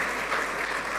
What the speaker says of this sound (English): Please put your hands together for our speakers as they go out of the room